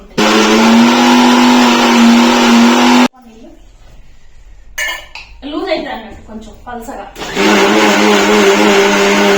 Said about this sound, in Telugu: మిక్సీ వచ్చాక చింతపండు వేసి మిక్సీ పడతా